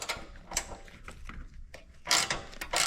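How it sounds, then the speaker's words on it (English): A hand ratchet loosens 13mm bolts on the front support bars of a 2015+ Ford Mustang EcoBoost, giving irregular bursts of close, quick clicking separated by short pauses. "Remove the 4 13mm bolts for the front support bars."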